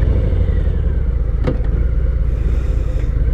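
Steady low rumble of a 2019 Harley-Davidson FXDR 114 motorcycle engine idling when warmed up, loud and continuous with a brief sharp transient partway through, no talking.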